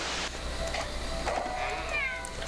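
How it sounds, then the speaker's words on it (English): A cartoon cat from the Game & Wario video game meows, with two or three short rising and falling calls over a steady background hum, no talking. "that was the cat that went in."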